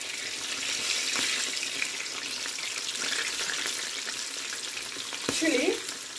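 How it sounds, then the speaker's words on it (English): Garlic butter chicken breast Kiev frying in a pot, a steady loud sizzle and crackle of hot oil with faint stirring noises and a brief scrape near the end. "Yeah, this is the frying."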